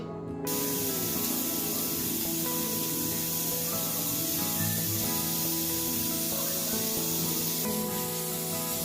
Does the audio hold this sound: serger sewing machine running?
no